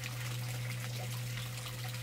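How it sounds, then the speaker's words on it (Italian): Steady running water outdoors forms a constant rushing wash with a low hum underneath, filling the whole stretch without any break. "sentite troppo il rumore dell'acqua"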